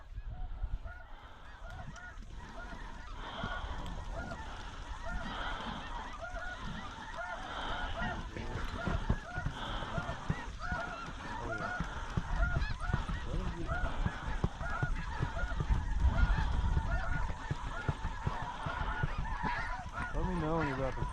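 Snow geese honk in flight, a large flock calling continuously overhead with overlapping nasal honks, steady and fairly near, swelling slightly toward the end.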